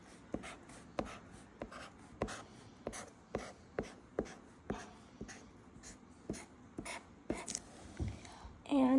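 Pencil or marker strokes on paper while drawing a sun, a steady series of short, close scratching marks at an even rhythm, with a faint squeaky tone at the very end.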